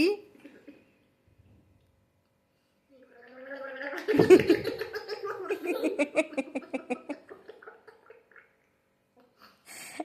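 A person gargles water in the throat, a bubbling, throaty rattle that swells in the middle and breaks into short pulses before fading, surrounded by near silence.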